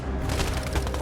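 Gunfire in the video game Life is Strange 2: a dense, rapid volley of shots rolling into one another, loud and steady throughout this short burst.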